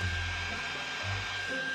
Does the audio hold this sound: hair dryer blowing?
yes